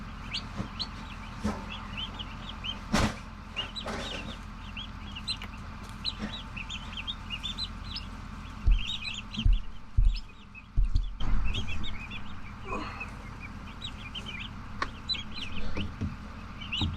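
Small baby turkey poults in a brooder give steady high chirps and peeps throughout, with a few louder bumps and rustles, fairly close and without talk.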